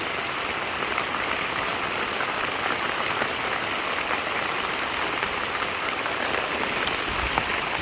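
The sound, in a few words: heavy rain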